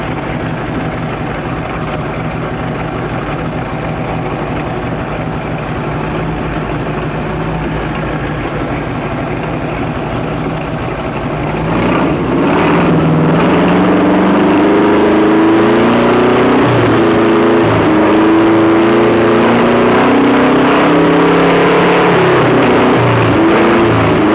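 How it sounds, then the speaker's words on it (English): A Panhard AML60 armoured car engine idles with a loud, steady rumble after a rebuild, then revs up about halfway through, its pitch climbing and falling in repeated surges. "I'm going to rev it up and just have a listen to this engine."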